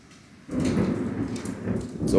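A thunderstorm moves over a backyard with tall trees: after a quiet half second, a loud rumble of thunder and heavy rain rises and holds, with a voice faintly present.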